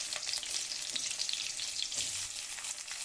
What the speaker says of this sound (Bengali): জিরে ফোড়ন দিয়ে দিলাম। দুরকম জিরেই ব্যবহার করেছি। কাঁচা লঙ্কা কুচিয়ে দিয়ে দিলাম।